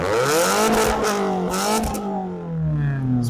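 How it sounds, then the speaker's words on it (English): Car engine with a modified exhaust revs gently, its loud, close drone rising and falling in a couple of smooth, light swells without any sharp bursts. "So we're going to do baby revs."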